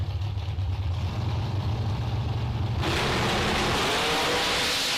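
A 2020 Racecraft Shorty dragster at a drag strip bracket race idles with a loud rumbling engine, then a sudden harsh roaring blast takes over as it launches.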